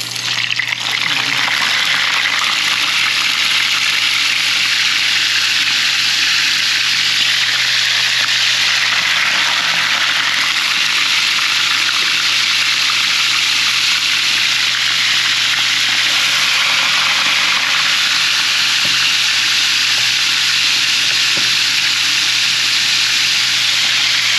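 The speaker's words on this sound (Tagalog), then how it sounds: "May mainita po tayo ditong kawali na may mantika. Ilalagay na po natin yung ating binabad na tilapia." Soaked tilapia fries in a pan of hot oil, a loud, steady hiss and crackle of sizzling that runs unbroken throughout, close and without talk.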